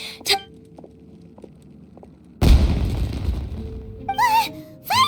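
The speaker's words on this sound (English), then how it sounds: "It sounded like fireworks." A loud firework burst in Genshin Impact gameplay erupts midway as a broad booming crackle, following quieter game ambience and trailing off into short tonal game effects.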